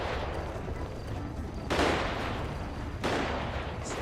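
Sustained weapon fire rattles in a GTA V roleplay scene, a loud continuous stream of shots with two sharper surges partway through, no talking over it.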